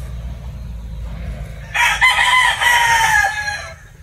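A Boston Roundhead gamefowl rooster lets out one full, close crow partway through, rising from a quiet background and trailing off near the end.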